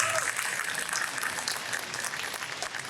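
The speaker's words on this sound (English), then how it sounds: "Round of applause." Audience applause at a nostalgia convention panel in Anaheim honoring the 1987 Teenage Mutant Ninja Turtles cast, a steady, dense clapping crowd sustained throughout at even loudness.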